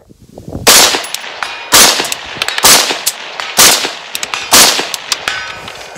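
Rifle shots from a Brownells BRN-180 fitted with a Bushmaster DM2S trigger, five sharp, loud cracks about one second apart, each with a short decaying echo on an outdoor range.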